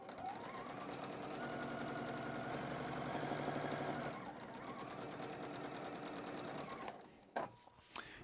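A sewing machine runs steadily, stitching patchwork fabric along a drawn line for a quilt block, its rapid mechanical chatter loud and continuous for about seven seconds before stopping, followed by a few brief handling noises.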